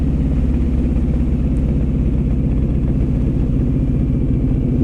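A motorcycle being ridden, a loud constant engine drone with wind rumble heard close from the rider's position, steady throughout with no speech.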